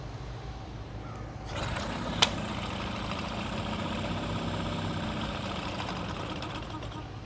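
Outboard boat motor running on mixed gas fed straight into the carburetor, a steady rough mid-range engine drone with a short sharp click near the start, heard close and continuous.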